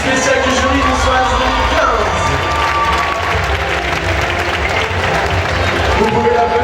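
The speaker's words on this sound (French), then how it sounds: "Vous pouvez l'applaudir bien fort." A pageant audience applauds loudly and steadily for the Miss Oise 2015 special jury prize winner at the Parc Saint Paul, with crowd noise and a voice talking over the clapping.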